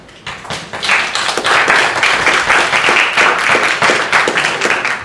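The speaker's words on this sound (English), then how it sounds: "we need to applaud the police department" City council members and attendees applaud the police department at a meeting, loud close clapping that starts after a quiet moment and stays full and steady for about five seconds.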